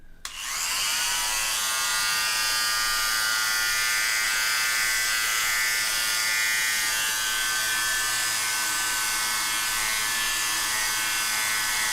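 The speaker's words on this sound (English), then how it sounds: "I shave my face like this twice a week" Electric shaver running over a face, a loud, steady high-pitched buzz that starts abruptly and holds evenly for about eleven seconds with no talking.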